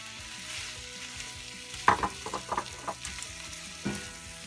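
Mushrooms and spinach sizzle in a skillet for a one-pan fish and rice dish, a steady frying hiss broken by several sharp crackles and pops in the middle as the vegetables are stirred.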